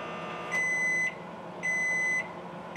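A microwave oven beeps three times in a steady rhythm, each tone clear and sustained, over a faint background hum.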